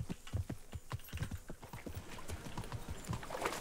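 A horse in the medieval video game Kingdom Come: Deliverance clops through a shallow ford, with a steady run of hoofbeats and soft splashing, close and continuous.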